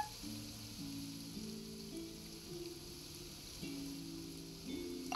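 Light rain falls steadily in the video game Genshin Impact, a soft even hiss that runs the whole time beneath a low sustained tone and a slowly shifting musical score.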